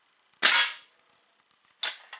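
A Czech-made Slavia 630 .177 (4.5 mm) air rifle firing during a muzzle velocity test: one sharp, loud close crack with a short tail, followed by a quieter snap and a click.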